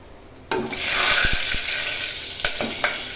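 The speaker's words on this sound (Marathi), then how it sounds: "आता कांदा घालून घेणार आहे." Onions drop into hot oil with whole spices such as cloves, peppercorns and bay leaf, setting off a sudden loud sizzle that continues steadily, with a few knocks of a stirring spoon against the pan.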